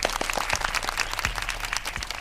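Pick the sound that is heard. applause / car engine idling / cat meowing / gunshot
applause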